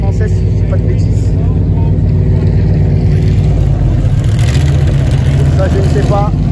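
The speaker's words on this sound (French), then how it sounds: "Je parle beaucoup plus fort là parce que vous entendez derrière moi, ça rugit de partout" Vintage racing car engines roaring from several directions at the Chantilly Arts et Élégance concours, a loud continuous rumble with rising revs under someone talking loudly over it.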